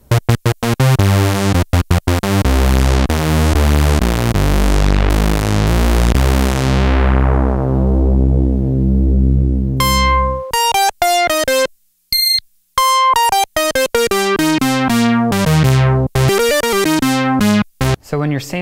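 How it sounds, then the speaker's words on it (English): An Octave the Cat analog synthesizer plays a bass line: a run of deep, buzzy repeated notes that ends in one long decaying tone, then brighter staccato notes with short gaps, loud and close, with no talking. "let's start with a bass line sound"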